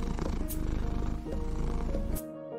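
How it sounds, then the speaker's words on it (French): A cartoon cat purrs in a steady, rhythmic low rumble for a couple of seconds, close and alone, before it cuts off. "Il répondit en ronronnant."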